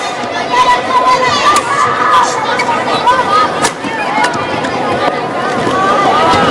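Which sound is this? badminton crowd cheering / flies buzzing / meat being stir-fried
badminton crowd cheering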